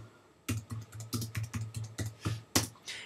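Rapid clacking keystrokes on a computer keyboard, typed in quick uneven bursts, close and fairly loud, with no talking over them.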